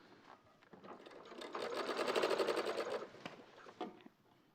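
Sewing machine stitching a straight panel onto a shawl, a steady buzzing run that swells to full speed mid-clip and then slows and stops, close and alone with no talk.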